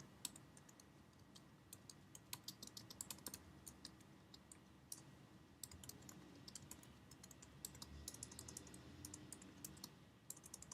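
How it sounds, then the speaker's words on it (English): Steady, quiet typing on a computer keyboard enters a book title, a continuous run of fast, light key clicks over a soft background hum. "So I'm going to type in the book title."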